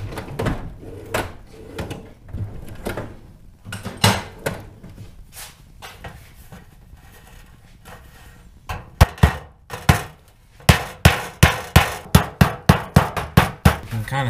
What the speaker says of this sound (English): we're going to use a hammer, and we're going to pound